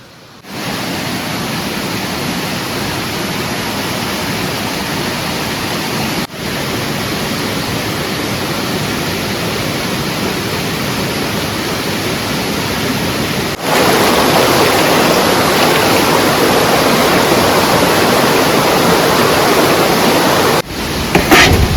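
A river flowing below a forest campsite after rain, a steady broadband rush of water that holds loud and even throughout and swells louder partway through, with no voices.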